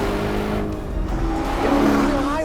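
Powerful performance SUV engine, a 2021 Mercedes-AMG GLS 63 or BMW Alpina XB7, accelerating hard toward redline, a loud, steady, rising roar that fills the whole clip.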